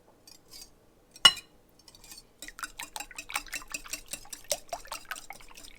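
Eggs being whisked in a bowl for shrimp egg foo young: after a sharp knock near the start, a quick run of light clinking, tapping whisk strokes, close and fairly faint.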